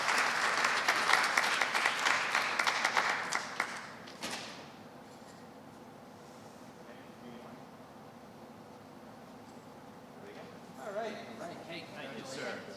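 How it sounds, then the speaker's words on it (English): Audience applause at a HUD lead grant announcement press conference, a dense burst of clapping for about four seconds that fades out, followed by quiet room tone and faint movement with a little talk near the end. "That's the applause line right there."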